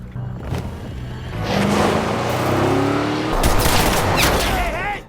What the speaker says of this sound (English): the bullet strikes Alex in the abdomen, leaving him badly wounded